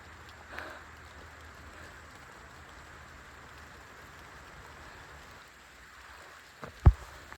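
Steady rain falls on a hill fort at Bhairavagad in Maharashtra, a soft continuous hiss near the listener with a single sharp knock close to the end and no voices.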